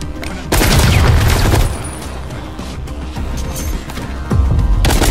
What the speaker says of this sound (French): Avec sa mitrailleuse.